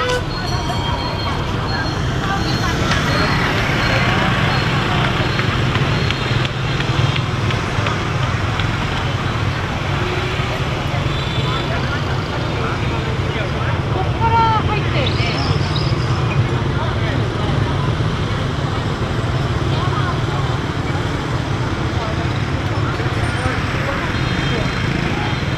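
Street traffic in Hanoi, Vietnam, a steady dense roar of passing vehicles that never lets up, with faint voices mixed into the continuous din.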